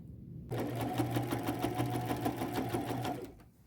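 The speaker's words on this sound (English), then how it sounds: "I'll be sewing on the bottom part of the jacket" A sewing machine stitches along the bottom hem of a flannel tuxedo jacket, a close, steady rapid whirring run of about three seconds that starts abruptly and then winds down.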